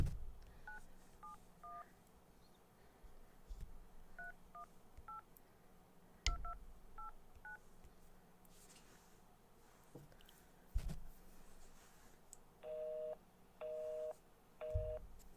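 Telephone keypad tones beep one after another in short, evenly spaced presses, clear and close. A few sharp clicks come between them, and near the end there are longer, louder tones.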